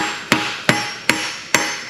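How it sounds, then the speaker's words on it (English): Engine seals are driven into a motorcycle top end with a seal installer, struck by a hammer in four sharp, evenly spaced metallic taps, close and loud with a short ring after each. "Hammer them home. Drive those home with those bad boys."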